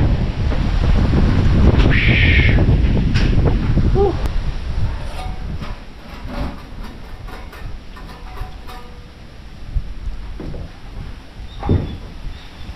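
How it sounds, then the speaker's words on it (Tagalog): Strong wind gusts at an outdoor hillside campsite, a loud, steady rumble buffeting the microphone that eases after several seconds, with faint talking in the background. "Grabe lakas ng hangin."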